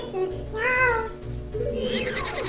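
A cat meows in a Legend of Zelda game, two drawn-out, rising-and-falling meows with a tonal character, the second longer and wavering, over a low game background hum.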